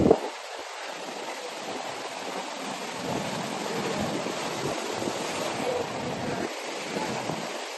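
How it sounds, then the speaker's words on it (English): Sea waves roll in at high tide along the shore at Fort Kochi, a continuous broadband wash of surf with soft swells and crashes, steady and fairly loud with no voices. "It's high tide, but look at the sea."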